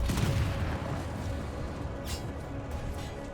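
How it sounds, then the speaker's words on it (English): Heavy tank gunfire in a World War II tank video game: an enemy N10 tank firing, a loud, deep blast up front that rumbles and fades, with sharper secondary cracks following. "that N10 is firing at us"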